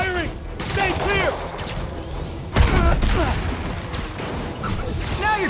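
Gunfire crackles through a battle in Marvel's Spider-Man, with a sharp louder burst midway, all under steady shouting voices and game action.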